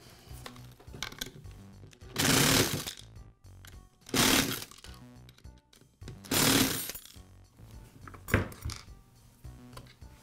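Metal parts are handled while the retaining plate comes off a Troy-Bilt string trimmer's recoil starter. Several loud clattering, scraping bursts are separated by quieter handling noise, close to the microphone.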